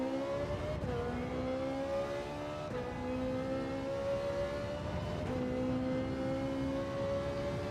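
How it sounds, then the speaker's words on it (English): Ferrari race car engine in the video game Gran Turismo 7, a steady high-pitched howl holding at speed with brief dips and rises at gear shifts, continuous and close throughout. "I think the one thing I like about the Ferrari, it sounds fast."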